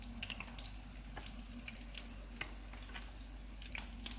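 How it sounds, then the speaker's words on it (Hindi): Gola kababs fry in a pan over a low flame, giving a quiet, steady sizzle with scattered small crackles and pops and a low background hum. "कबाबों को फ्राई करते हुए हम चूल्हे को कम रखेंगे।"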